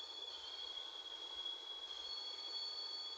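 A train runs on rails in a train-driving video game, giving a steady, continuous rolling hum with a thin, sustained high whine, unbroken and free of talk.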